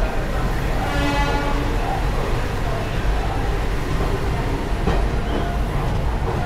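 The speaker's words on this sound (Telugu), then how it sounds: "ప్లాట్ఫామ్ 5లో అయితే సికింద్రాబాద్ టు రాయ్పూర్ ట్రైన్" A Secunderabad to Raipur train at platform 5 of a large station gives a loud, steady rumble and hiss with faint metallic clanks throughout, close by and unbroken.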